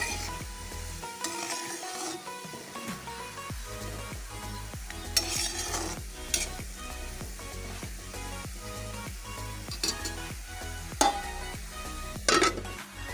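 Cucumber and onion with turmeric and salt stirred in a frying pan, a continuous sizzle under repeated rhythmic scrapes of a spatula against the pan, close and steady with occasional louder clinks.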